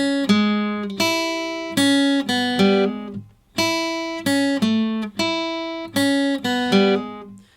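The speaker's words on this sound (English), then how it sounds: "breaking down the lead line for the first verse" Slow, single-note electric guitar lead line from a song, played alone with clearly separated plucked notes in a steady, unhurried rhythm, each ringing out with rich harmonics before the next.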